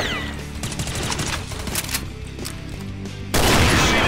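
Rapid gunfire bursts in the shooter game Combat Arms Reloaded, loud repeated shots with a denser, heavier volley near the end, no talk over it.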